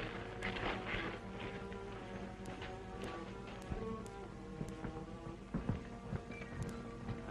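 Horse hooves clip-clop at a steady walk in a 1936 western film, faint beneath a continuous hiss and background murmur, with an occasional louder hoof strike.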